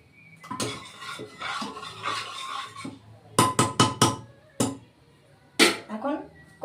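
A metal wok clanks and scrapes as it is set on a stovetop, several sharp knocks in quick succession, close up.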